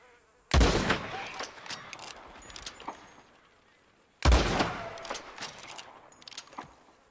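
Two loud, close gunshots in Red Dead Redemption 2, spaced a few seconds apart while hunting in the wild, each followed by a ringing tail and scattered faint ambient clicks and chirps.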